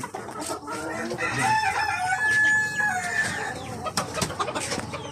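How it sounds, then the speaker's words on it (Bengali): Several small chickens of one of the world's smallest breeds cluck busily up close while a rooster crows partway through, with scattered squawks over a steady background at a fancy-chicken farm in Kolkata. "এগুলো হচ্ছে পৃথিবীর ছোটো জাতের মুরগির মধ্যে একটা দেখুন"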